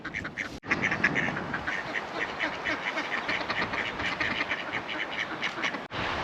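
A flock of ducks quacks continuously at close range, with dense overlapping calls forming a busy, steady chatter throughout.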